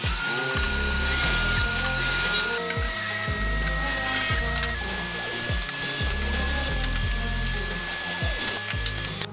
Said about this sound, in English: Now we're gonna take 2 of our 13-inch pieces and rip them into 1 1/4 inch strips.